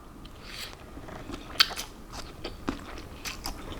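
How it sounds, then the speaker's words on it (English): Someone eating a bowl of japchae, Korean glass noodles, with soft close chewing and a few small crunchy bites scattered over a few seconds, quiet with no talking. "I'm just gonna go and enjoy this bowl of delicious japchae noodles"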